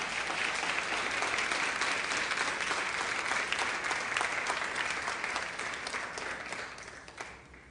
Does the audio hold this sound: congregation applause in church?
yes